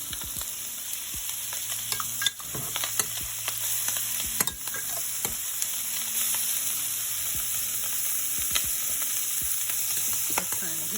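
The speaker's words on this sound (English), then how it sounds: "So I'm going to stir this up. Stir it up. Make sure it's incorporated." Spaghetti sauce sizzles in a skillet while being stirred, giving a constant close frying hiss with frequent clicks and scrapes of the utensil against the pan.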